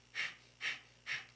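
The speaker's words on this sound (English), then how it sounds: "it's a rapid breath through the nose, and it's like a dog panting" Three quick, sharp breaths forced through the nose with the mouth closed, in an even rhythm like a panting dog, performed close up during a Kundalini yoga exercise.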